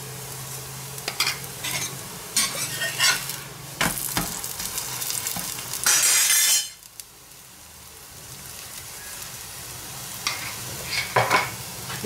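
Millet vegetable paratha cooking in ghee on a pan: a steady sizzle with scraping and tapping from flipping, a loud hissing burst midway that drops off suddenly, then quieter frying with more scrapes.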